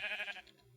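A single short sheep bleat from a modded Minecraft game, faint and wavering, lasting under half a second before fading into quiet background.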